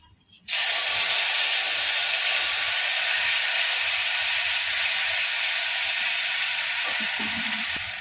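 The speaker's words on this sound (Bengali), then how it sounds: "গোটা গরম মশলার মধ্যে আছে দারচিনি, এলাচ, লবঙ্গ, এগুলো আমি ফোড়ন দেবো।" Whole cinnamon, cardamom and cloves hit hot oil with a sudden loud, steady sizzle that starts half a second in and holds strong and unbroken to the end, with faint clinks near the close.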